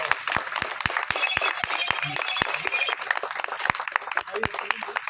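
Sharp, distinct hand claps from an audience at a rural agricultural training workshop, spaced in a loose rhythm, with speech and room chatter running underneath throughout.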